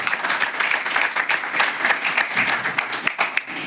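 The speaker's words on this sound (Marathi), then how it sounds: "या माणगावच्या भक्त मंडळींसाठी एकदा जोरदार टाळ्या वाजवा" Energetic applause from an audience honoring the Mangaon devotees at an award ceremony, dense continuous clapping close and loud throughout.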